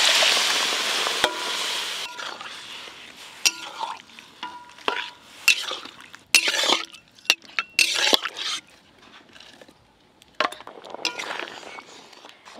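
Boiled mung dal goes into a pan of fried katla fish head masala with salt and chopped coriander, followed by steady spoon stirring, soft sizzling and wet sloshing, with metal clinks against the pan at irregular moments.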